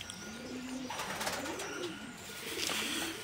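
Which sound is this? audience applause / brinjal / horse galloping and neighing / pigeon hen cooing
pigeon hen cooing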